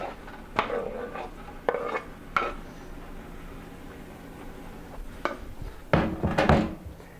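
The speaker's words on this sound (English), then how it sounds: "So first let's cut up both of our tomatoes." Knife strokes chopping two tomatoes on a cutting board for a salmon a la San Juan dish, heard as a few sharp, separate knocks spread out, with a denser run of close chops near the end and quiet between them.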